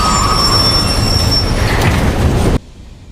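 A subway train runs loudly nearby, with rumbling wheels, rail clatter and high metallic squealing, before the sound cuts off abruptly near the end.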